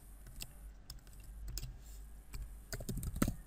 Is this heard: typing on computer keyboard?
yes